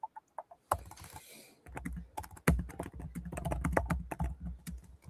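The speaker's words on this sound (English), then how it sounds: "You were mashing that keyboard" Rapid, forceful keystrokes clatter on a computer keyboard, starting with a few isolated taps and then building into dense, heavy hammering, close to the microphone and with no voices.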